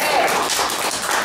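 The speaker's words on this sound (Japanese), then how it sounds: "拍手。" Audience clapping at a live music event, a brief dense burst of many hands, steady and fairly loud throughout.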